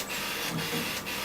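An inkjet printer prints a white ink alignment file, giving a steady mechanical whir and hiss with the print head sweeping back and forth in soft, regular passes about every half second.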